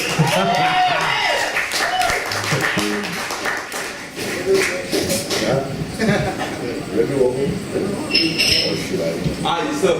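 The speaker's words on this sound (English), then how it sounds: "How about a round of applause for Zali, man?" An audience at a live music and poetry night applauds a performer, a scattered clatter of clapping and a few chuckles running under a voice on a microphone.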